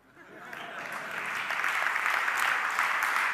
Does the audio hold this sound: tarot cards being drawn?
no